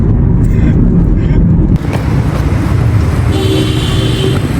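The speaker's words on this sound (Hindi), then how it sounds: "यहाँ पे बहुत ज़्यादा भी ट्रैफिक है" Heavy road traffic in Lahore makes a loud, steady roar of engines, with car horns tooting over it now and then.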